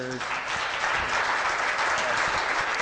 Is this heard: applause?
yes